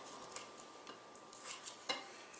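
Kitchen dishes and utensils are stacked during deviled egg preparation, giving a few quiet, scattered clinks and taps of crockery and cutlery in a mostly hushed room.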